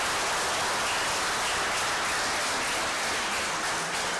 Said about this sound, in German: Auch nochmal einen großen Applaus für Peter